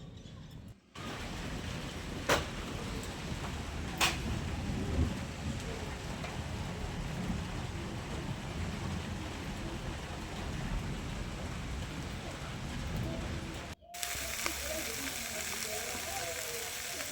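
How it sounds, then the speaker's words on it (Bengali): Heavy rain pouring down in the evening: a steady, dense hiss of falling water with a couple of sharp clicks, continuous for a long stretch and fairly faint, with a brief cut near the end. "প্রচুর বৃষ্টি পড়ছে"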